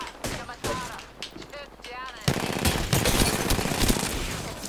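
Gunfire in the shooter game Apex Legends, rapid automatic bursts that grow denser and louder in the second half, mixed with game effects while a player talks excitedly over it.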